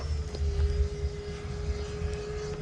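A Freewing F/A-18C 90mm electric ducted-fan RC jet flies in to land, giving a steady high whine with a low rumble, fairly close and continuous without any talk.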